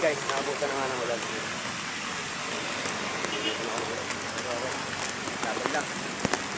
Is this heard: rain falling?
yes